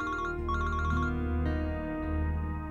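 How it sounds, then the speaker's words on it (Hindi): A mobile phone ringtone plays in a Pakistani drama scene, a loud melodic tone repeating insistently without any talk. "इसका फोन है जो मुस्तकिल बजे जा रहा है"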